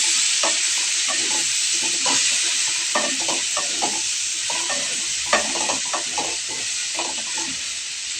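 Potato and cauliflower sizzle in a pan with added spices while being stirred, steady frying hiss under repeated scraping and clinking strokes of the spoon, close and continuous.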